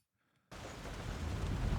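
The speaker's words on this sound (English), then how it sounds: "And of course it's raining because it's Japan." Steady rain falls in Forza Horizon 6 in Japan, a dense broadband hiss that starts abruptly after a moment of near silence and swells slightly louder.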